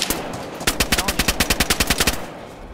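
A rapid, loud burst of MK48-style machine gun fire rattles out about a dozen evenly spaced shots in DayZ, preceded by a brief murmur of voices.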